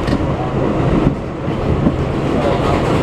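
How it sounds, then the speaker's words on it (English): A New York City subway express train of R188 cars, converted from R142A, speeds past near Junction Boulevard on the Flushing line in a loud, continuous rumble and rattle with faint clicking from the wheels. "And here's an express train consisting of R18. It's going pretty quickly."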